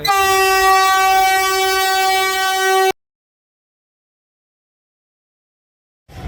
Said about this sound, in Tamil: வந்தே பாரத் இப்போ தான் திருநெல்வேலி டு சென்னை வண்டி வந்துச்சு.